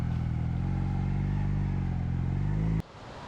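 A motorcycle climbs a trail toward a hidden waterfall, its engine a steady close drone for nearly three seconds before it stops abruptly and leaves a quieter background.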